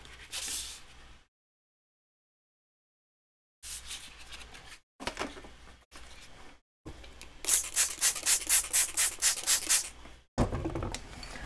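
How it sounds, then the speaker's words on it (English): Sandpaper rubbed over a surface in short bursts separated by silent gaps, the last stretch turning into quick rhythmic back-and-forth strokes, close and clear. "I'm going to use some sandpaper on this next one"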